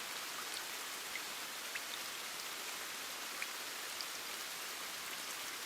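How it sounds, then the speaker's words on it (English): Heavy rain falls in a steady, dense hiss, with a few soft droplet taps standing out now and then. No voices are heard over the rain. "Listen to the rain."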